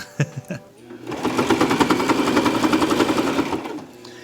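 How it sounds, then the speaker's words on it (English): A sewing machine stitches trim onto a karate uniform jacket, running steadily for a few seconds after some brief clicks, close and fairly loud. "Still sewing on both sides, good. That means we got stuff in the bobbin still."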